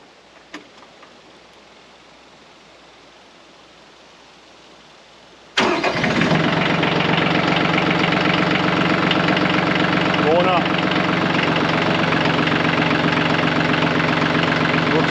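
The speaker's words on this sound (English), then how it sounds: "So tractor's got the parking brake on. We're going to start it up here." A tractor engine cranks and fires abruptly after a few seconds of quiet room noise, then settles straight into a loud, steady, close idle with a constant mechanical rumble and clatter.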